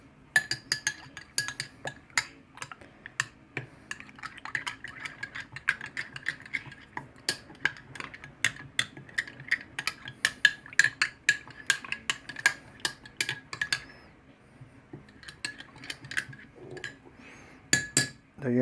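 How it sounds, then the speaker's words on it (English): A spoon stirs tamarind drink in a glass, giving a long run of quick, bright clinks and taps against the rim and sides. The ringing comes close-up and steady for the whole stretch, with no talk over it. "I'm gonna mix it."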